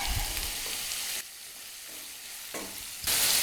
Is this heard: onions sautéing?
yes